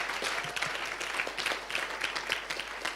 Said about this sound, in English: Let's give Apostle another round of applause.